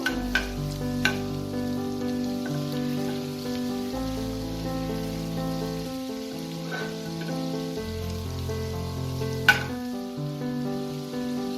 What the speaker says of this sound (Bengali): এগুলোকে 30 সেকেন্ডসের মতো আমি নাড়াচাড়া করে নেব